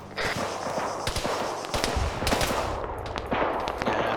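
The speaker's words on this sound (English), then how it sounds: "Suppressing fire." Sustained suppressing machine gun fire in a military combat game set in a valley, rapid dense bursts of shots cracking continuously at close range with no talk over it.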